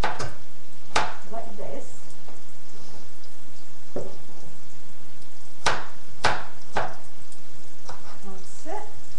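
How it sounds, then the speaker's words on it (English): An onion is chopped with a knife on a board, a few sharp, scattered knife strikes spaced irregularly, close and fairly loud, with someone talking over them. "chop the onion"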